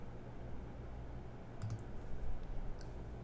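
A computer mouse gives a few quiet, quick clicks over a low background hum, with no talking.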